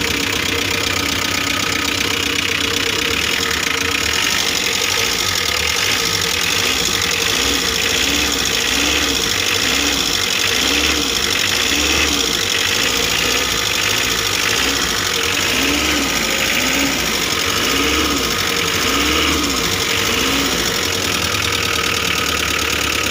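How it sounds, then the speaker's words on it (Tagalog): A Mitsubishi L300 FB-type van engine idles steadily after a fuel filter replacement, with a rhythmic knocking pulse over a continuous low rumble throughout, loud and close, with no talking. "nagpalit na tayo ng fuel filter at ngayon papaanda rin natin"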